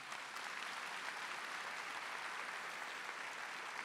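A congregation applauds during Mass, a dense, even wash of clapping that holds steady from start to finish with no break and no voices over it.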